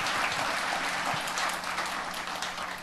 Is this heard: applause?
yes